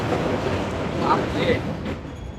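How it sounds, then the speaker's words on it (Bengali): The Howrah-Puri express rumbles along as heard from inside a sleeper coach, giving a loud, continuous roar and rattle of wheels and carriage with brief higher squeals, and voices mixed in. "প্রচন্ড সাউন্ড ট্রেন এখন ক্রস করছে সাঁতরাগাছি"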